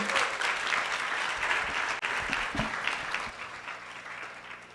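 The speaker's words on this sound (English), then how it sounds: "Another round of applause for our top 10." Sustained applause from an audience at a national youth environmental speaking competition final in Guyana, honoring the top 10 finalists; a dense, steady wash of clapping that holds at full strength before easing slightly toward the end.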